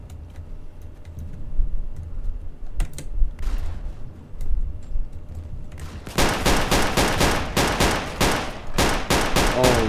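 STG-44 fire in the Roblox game Unit 1968: a few faint clicks and scattered shots, then a sharp, loud rapid burst of evenly spaced automatic gunshots in the final four seconds, no talking.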